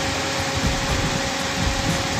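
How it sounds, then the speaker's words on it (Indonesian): A car radiator cooling fan gives a steady, whirring drone with a broad, constant rush of air and a low mechanical rumble underneath, loud and close. "suara kipas"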